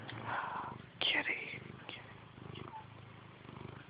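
A domestic cat purrs softly and steadily up close, the low rumble faint and continuous, with a quiet whispering voice and a few light rustles over it.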